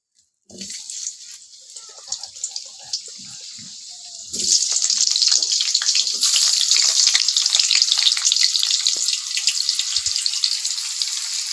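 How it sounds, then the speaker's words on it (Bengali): Potatoes drop into hot oil in a kadai for a homestyle chicken dish; after a few quiet knocks, a loud, steady frying hiss starts and continues close up without talking. "আলুটা দিয়ে দিলাম ভেজে নিচ্ছি"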